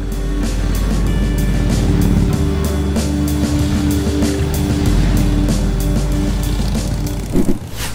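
A steady, deep motorcycle engine rumble runs throughout, a legal muffled exhaust idling and revving slightly, loud and close with no talking.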